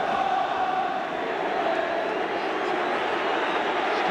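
Broad, steady roar of a large football crowd at a 1970s–80s Everton match, a sustained wash of booing from the stands that holds constant for the whole stretch with no clear breaks.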